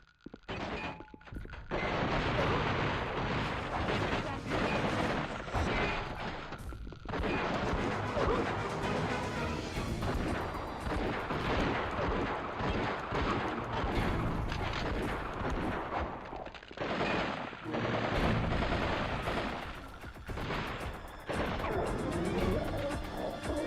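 Gunfire in the PS2 game Dead to Rights: a dense, near-continuous barrage of loud, booming shots and crashing impacts that runs for the whole stretch, with only brief dips between volleys.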